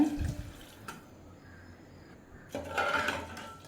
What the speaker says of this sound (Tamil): தேவையான அளவு தண்ணி சேர்த்துக்கோங்க